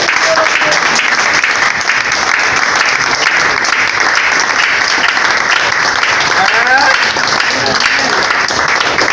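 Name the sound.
audience applause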